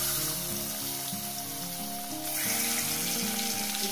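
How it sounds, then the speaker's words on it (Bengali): Pieces of katla fish sizzle and crackle in hot oil, a steady dense frying hiss heard up close with no talking. "মাছগুলোকে সুন্দর করে একটু ভেজে নেব"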